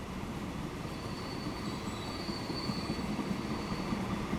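Trains waiting at a station platform in the railway game Transport Fever 2, a steady, close rumble of rail cars with faint wheel squeal rising above it throughout.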